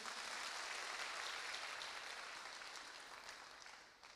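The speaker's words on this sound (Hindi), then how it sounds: "एक शानदार ताली आपके लिए बनती है" Applause from an audience at a Safe Shop business talk: thick, continuous clapping heard at a distance and fairly faint, fading away toward the end.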